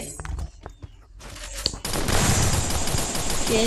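Gunfire in the Free Fire clash squad game: scattered sharp shots, then a dense, loud stretch of rapid firing and noisy impacts over the last two seconds.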